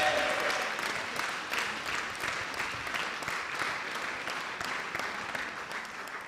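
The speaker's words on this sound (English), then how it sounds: "big round of applause for the wrestling nerd Bird" Crowd at a charity wrestling show clapping to welcome the host, a sustained round of applause that starts strongest and gradually eases off.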